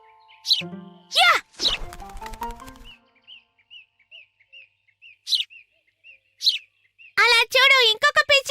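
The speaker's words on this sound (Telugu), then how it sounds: "అలా చూడు, ఇంకొక పిచ్చుక." A cartoon sparrow chirps in a run of short, evenly spaced high tweets, with brighter bursts of animated character voices before and after.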